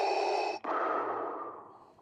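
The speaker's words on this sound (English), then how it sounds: "If I struggle to breathe like this guy" A person labours to breathe through a woodworking dust mask: a long, strained inhale, a sharp break, then a hissing, fading exhale, close and alone.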